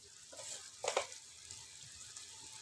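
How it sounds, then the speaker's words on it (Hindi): Beef kofta masala fries with whipped yogurt in a pan. It makes a steady, close sizzle with a brief louder crackling burst early on. "अब मैं इस दही के साथ इसको भूनूँगी"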